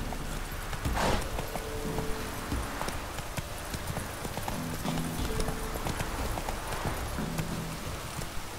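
Horse hooves clip-clop steadily in The Witcher video game on Xbox One, a rhythmic trotting beat running throughout at moderate volume with faint background ambience and no talk.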